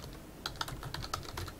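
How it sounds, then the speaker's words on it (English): Typing on a computer keyboard, with a quick run of close, light key clicks in an uneven rhythm and no talking. "So I'm just going to type in my favorite things by Mr. Ely."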